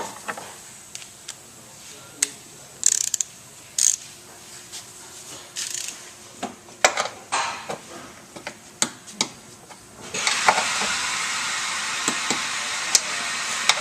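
A torque wrench works on a 1998 Hyundai Accent strut, giving scattered sharp clicks and ratcheting ticks over a faint background hum. A steadier, louder whir joins near the end.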